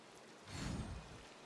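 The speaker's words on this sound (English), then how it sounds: "The rain is not ideal for this." Soft game rain patters steadily in Disney Dreamlight Valley, a faint continuous hiss that swells briefly and fades again within a second and a half.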